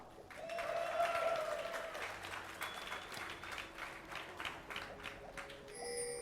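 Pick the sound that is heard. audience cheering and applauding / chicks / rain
audience cheering and applauding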